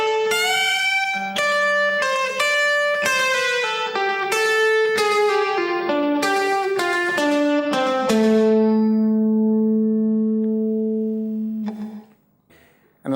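A rockabilly electric guitar lick is played slowly as a run of clean, ringing single notes stepping downward, ending on a long sustained note that fades before a brief noise.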